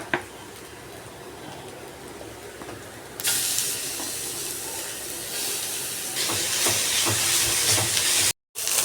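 Beetroot sautés in a pan after onion and dried red chili have been tempered, giving a soft hiss that jumps to a louder, steady sizzle partway through and grows again near the end, with a brief cut before it finishes.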